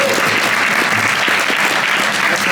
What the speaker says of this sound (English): applause for Mark D.